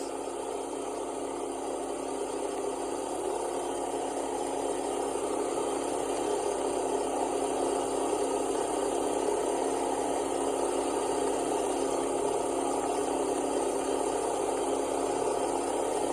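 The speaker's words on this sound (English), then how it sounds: "Here it comes for the high-speed pass." A jet makes a high-speed pass in the Flight Simulator FSX video game, a steady, loud, broadband engine roar that holds constant without rising or fading, with no talking.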